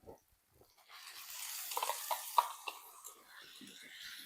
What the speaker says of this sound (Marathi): लगेच त्यामध्ये घालायचे टोमॅटो. हे परतलं की किमान 2 ते 3 मिनिटं परतून द्यायचं.